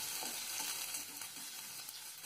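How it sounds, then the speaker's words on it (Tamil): Onions sautéing in hot oil with mustard seeds and urad dal for a capsicum curry, a steady close sizzle with soft stirring scrapes throughout, no voices. "வெங்காயம் நல்லா வதங்குற வரைக்கும் நம்ம வெயிட் பண்ணலாம்."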